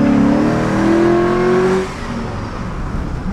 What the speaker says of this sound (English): It sounds like it's supercharged, bro.